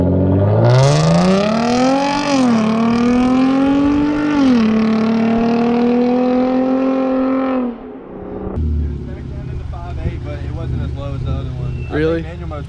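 A Hyundai Genesis Coupe launches hard from a standstill, its engine rising in a loud, climbing roar with a brief dip at a gear change before cutting off, leaving quieter cabin noise; people talk over it.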